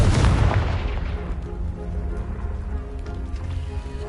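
A Confringo blasting spell in Hogwarts Legacy detonates with a loud, close boom at the start, its heavy rumble slowly decaying into debris rattle over the following seconds.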